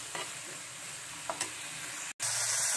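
Apple halwa with coconut and raisins is stirred and roasted in a pan, a steady soft sizzle with a few scraping strokes, briefly cut off before resuming louder.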